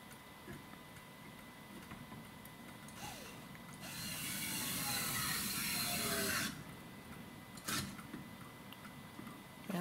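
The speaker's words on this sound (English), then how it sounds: "turning the screwdriver and just giving a little hand turn after it's hit the bottom" A screwdriver drives screws into corner braces under a table, making faint ticking and ratcheting clicks with a louder stretch of grinding in the middle, close but quiet.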